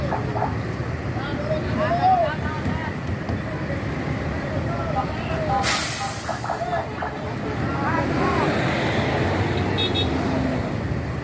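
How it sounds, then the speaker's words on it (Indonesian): Busy road traffic on an Indonesian highway with a Rosalia Indah bus: a dense, continuous rumble of engines and tyres with a horn toot and a brief hiss burst, while people talk over it. "Suasana lalu lintas sangat ramai ya."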